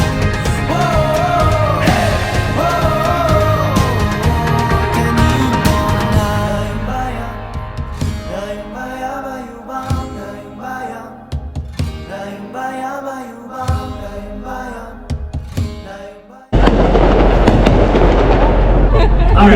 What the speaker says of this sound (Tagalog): I'm happy I was able to see the fireworks